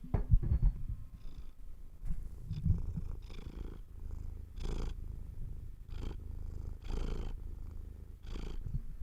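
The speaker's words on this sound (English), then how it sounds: "He's purring." A cat purrs on a lap, a close, breathy rumble that rises and falls in a steady rhythm with each breath, alone and fairly soft.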